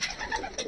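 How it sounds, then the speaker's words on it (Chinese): A pigeon coos faintly and briefly among a crowd of pigeons in Urumqi, a soft low warble heard alone. "鸽子特别多，你看多少只啊！"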